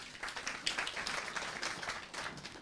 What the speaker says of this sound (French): on a applaudi le professeur pour cette levée et nous donner ses explications